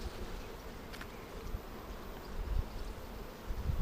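Honeybees buzzing steadily in an open beehive during a hive inspection in Finland, a dense continuous hum filling the clip with no talking.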